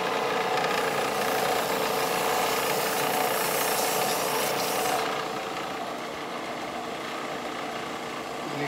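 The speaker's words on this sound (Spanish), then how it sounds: "Lijando la madera." A small handheld power sander working on wood gives a steady, loud mechanical whir with broad hiss that softens partway through as the tool eases off.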